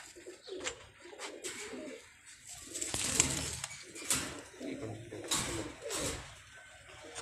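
Pigeons coo repeatedly in a Karachi pigeon fancier's loft, with several birds layering soft, rolling calls close by and some wing flutters between them.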